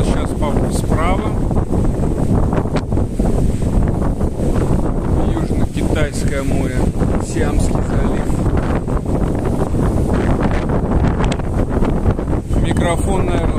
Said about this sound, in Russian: сильный ветер что-то здесь поднялся у нас в здании